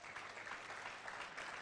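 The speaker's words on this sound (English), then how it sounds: "Please clap for our CMD." Audience applause for the CMD at a nursing induction ceremony, a steady, distant wash of clapping that runs through the whole moment without a break.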